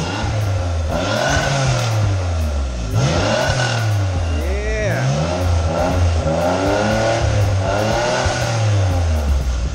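A car revs hard right after a freshly installed aftermarket exhaust, with repeated rising and falling engine sweeps, loud and close throughout.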